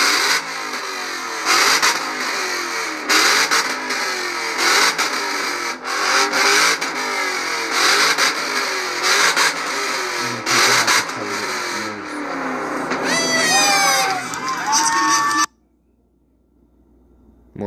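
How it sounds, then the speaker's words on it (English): Many cars rev their engines together at a rev contest, a loud sustained roar with repeated surging revs and a rising high whine near the end before an abrupt cut to near silence. "This is when there was a rev contest. There were so many cars doing it. It was crazy loud."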